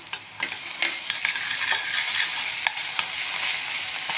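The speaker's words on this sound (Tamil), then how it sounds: "இஞ்சி பூண்டு வந்து பச்சை வாசனை போற அளவுக்கு நல்லா வதக்கணும்" Ginger garlic paste and onions sizzle in a pan while being stirred, a steady close frying hiss broken by sharp clicks of the spoon against the pan, with no talk.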